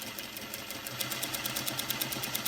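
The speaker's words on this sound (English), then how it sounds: "So I will top stitch the dart as well." A sewing machine top-stitches a dart on the front leg of cargo trousers, its needle clattering in a fast, even rhythm, close and fairly quiet, with no talk.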